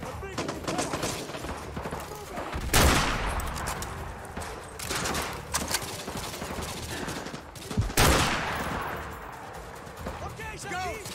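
Loud, repeated gunfire from the video game Call of Duty: Modern Warfare 2 Remastered, with two heavy bursts standing out against continuous crackling shots and battle noise, while a player talks over it.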